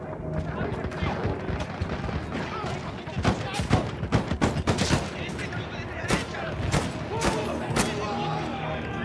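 Rapid, sharp gunfire bursts from the Battlefield 1 World War I shooter, a dense run of repeated shots and thumps spread across the whole stretch, loud and close, with excited voices talking over the battle.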